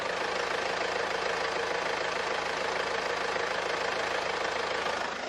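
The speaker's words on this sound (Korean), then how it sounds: "바로 엔진 소리 한번 들려드릴게요" A Mercedes-Benz CLS250d 4MATIC diesel idles steadily, giving a close, continuous low rumble with a faint rhythmic diesel clatter running through it. The sound is even throughout, with no revving and no voices.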